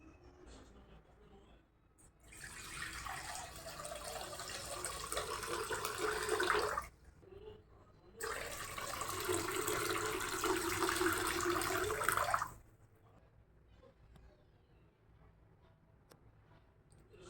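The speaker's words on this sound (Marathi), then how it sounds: "आता मी यामध्ये गरम पाणी करणार आहे" Water gushes into a new, freshly oiled iron kadhai in two steady, loud pours of about four seconds each, separated by a short pause, with a quiet kitchen before and after.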